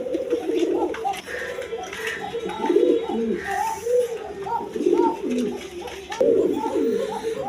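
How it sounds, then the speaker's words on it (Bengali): Pigeons coo repeatedly in soft, overlapping rolling calls on a pigeon farm, close and steady throughout, with faint background chatter. "দর্শকবৃন্দ এইখানে এক পেয়ার কবুতর আছে, দেখেন একদম বিগ সাইজের কবুতর"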